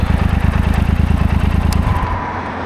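A Triumph Speed Twin 1200 motorcycle engine runs with a loud, steady pulsing rumble close by, then drops away and fades near the end.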